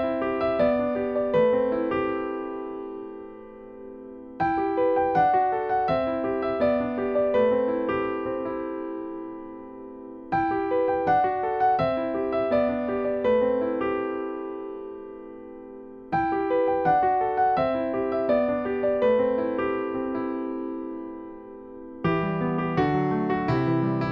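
Solo piano plays the intro and verses of a song, with repeated rhythmic chord phrases in clear bar-long sections, close and clean with no voices.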